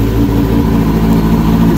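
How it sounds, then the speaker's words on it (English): A 2010 Kawasaki ZX10R with an M4 exhaust idles close up, a loud, steady, deep throbbing rumble with a fast even pulse throughout. "It fires up right away. Sounds like a Cali. M4 exhaust is really cool."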